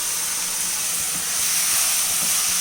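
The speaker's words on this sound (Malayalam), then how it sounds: "നമുക്ക് അരി വറുത്തെടുക്കാം" Washed and drained rice frying in a pan over a high flame while making green peas pulao, a steady, loud hiss and sizzle with faint stirring scrapes.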